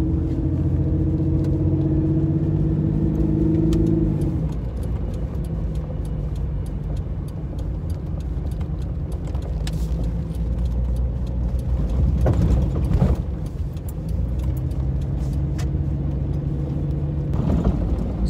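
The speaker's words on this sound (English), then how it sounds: "I keep getting these vehicles coming out of nowhere" On a quiet country road, vehicles rumble past one after another in a continuous low drone that swells and fades as each approaches and passes.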